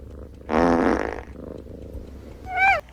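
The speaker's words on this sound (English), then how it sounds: "Yes, farting." A movie scene plays a loud, buzzy fart lasting about half a second, then after a quiet pause a shorter, higher squeaky fart ends the moment, with faint background hum between.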